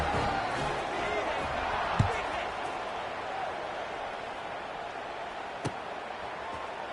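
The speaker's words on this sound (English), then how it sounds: "this crowd is buzzing after that last score" Football stadium crowd during a game between the Dragons and Toucans, a steady broad buzzing murmur filling the space after a score, with a couple of brief thumps standing out.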